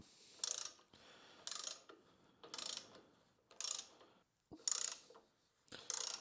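A ratchet wrench snugs up bolts on a Kohler engine during an oil leak repair, heard as six quick, evenly spaced bursts of clicking close by, with quiet pauses between.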